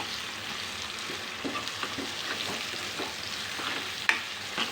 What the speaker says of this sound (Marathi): आपलं कांदा आणि टॅमॅटो बारीक चिरलेलं आहे ते टाकून घेणार